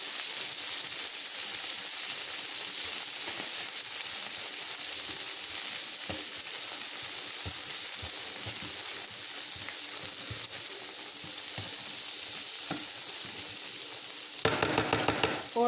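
Philly cheesesteak meat and potatoes cook together on a griddle with a steady loud sizzle and hiss, scattered scraping taps of a spatula, and a burst of quick clatter near the end.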